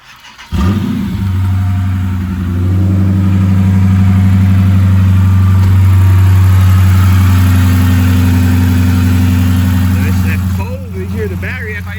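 A Dodge Charger Pursuit's 5.7L HEMI V8 with an SRT AirAid intake cranks and fires up after a brief hesitation, then settles into a loud, steady, close-up idle with a deep rumble before dropping off near the end.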